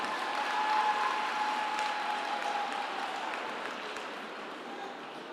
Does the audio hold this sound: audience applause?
yes